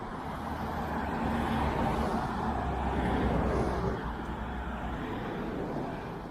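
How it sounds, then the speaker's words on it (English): Steady road traffic rumble from passing cars and vehicles on a busy street beside a shopping outlet, a continuous moderate wash of engine and tyre noise with no voices. "Sorry about the traffic noise."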